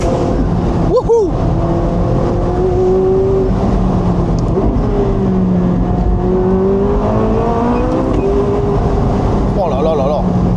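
A McLaren 675LT Spider with a 700-horsepower engine accelerates hard through rising, wavering revs and gear changes, loud and close, with a voice speaking over it.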